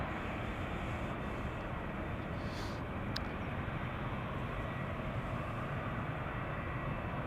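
A four-year-old Airbus A350 jet departs Amsterdam Schiphol for Montreal, its engines a steady, broad, distant roar that holds constant throughout, with no voices.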